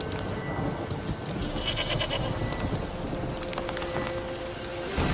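A goat bleats in The Witcher 3, a few nasal cries rising over a constant outdoor wind and ambient rumble, fairly close and with no talking.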